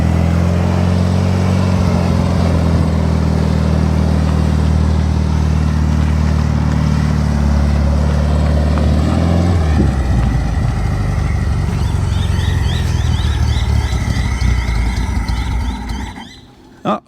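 A Volkswagen engine in a homemade millybug fires up for the first time and runs loudly and steadily, a strong rough idle with rising revs and a brief squeal, close up, before cutting off near the end.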